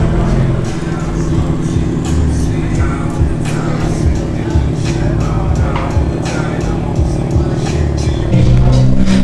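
A Honda Civic Si pulls in nearby, its low engine rumbling steadily with a slight rise in revs toward the end.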